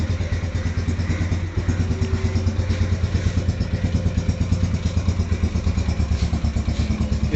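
A Yamaha 125 Z motorcycle engine idles nearby after starting, with a steady, even, throbbing chug that stays loud and rhythmic throughout.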